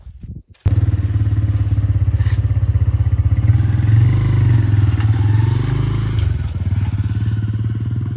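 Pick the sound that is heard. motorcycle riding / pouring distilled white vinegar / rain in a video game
motorcycle riding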